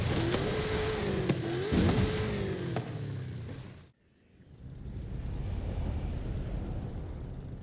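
A Cadillac XTS Limousine in Forza Horizon 5 revs and accelerates loudly with the engine pitch climbing, drops out abruptly, then returns as steady road and engine rumble.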